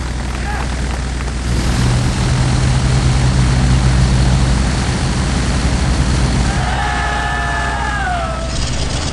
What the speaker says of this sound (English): Then the Pandar S-4 gets away.